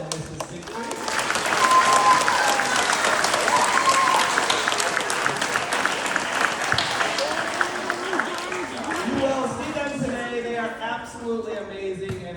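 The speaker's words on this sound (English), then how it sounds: "So I would like to give a round of applause for Dr. Broadwell and Mrs. Siegfried." An audience applauds parents at a winter violin club performance, a sustained wave of many hands clapping that swells early, holds steady, then thins toward the end as scattered claps and voices emerge.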